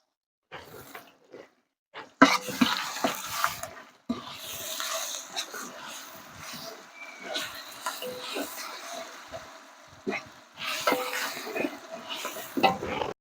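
Spices fry and crackle in a pan while a spoon stirs and scrapes in bursts, with pauses between; fairly quiet and close.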